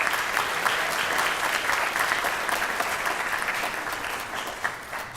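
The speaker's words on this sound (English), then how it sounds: "So if we can have a round of applause for him," Audience applause at a middle school band spring concert, dense steady clapping from a crowd filling the room for the whole stretch, close and loud.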